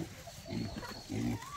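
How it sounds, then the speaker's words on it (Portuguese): Pigs on a small farm in Minas Gerais grunt and snort in two low bursts, close by, with outdoor background noise. "Ô, Sá, tem uns porcos aí também? Porquinho aí, ó"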